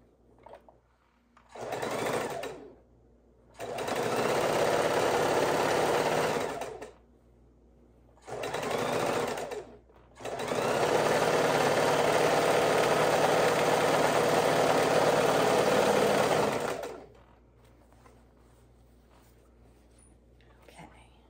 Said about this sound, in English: we're bringing them over to the sewing machine and getting them sewn up